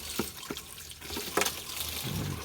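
Tap water runs into a sink while a portable dish is rinsed, a steady close splashing rush with a few louder splatters and clunks as the dish shifts under the stream.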